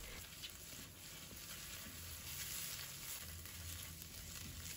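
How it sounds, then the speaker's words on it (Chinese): Beaten egg fries in a pan over low heat while a spatula breaks it into small pieces, making a steady, soft sizzle that runs evenly throughout with no talking. "开小火慢慢的给它煎制一下，然后用铲子把鸡蛋给它压碎，压成小块"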